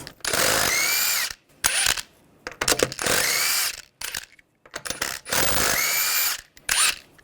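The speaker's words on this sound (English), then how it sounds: "use a 21mm socket, take the lug nuts off" A power impact tool or drill with a 21mm socket spins off the front wheel lug nuts of a 2011-2017 Nissan Juke, loud whirring bursts of about a second each, separated by ratchety clicks and short handling noises, close by and without speech.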